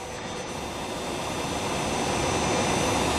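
A Sturtevant #6 blower driven by a 15 HP three-phase Allis-Chalmers motor runs at normal 60 Hz speed, giving a steady, loud, even roar of rushing air with no other sounds.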